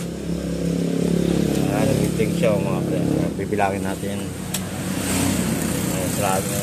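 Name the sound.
Yamaha Mio i 125 motorcycle engine running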